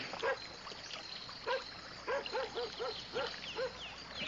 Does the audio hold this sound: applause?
no